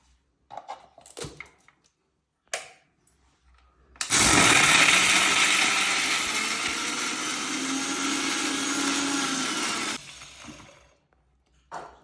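Electric mixer grinder grinding dal for a coconut-free chammanthi chutney, a loud whirring motor run of about six seconds after a few knocks and clatters, then stopping abruptly.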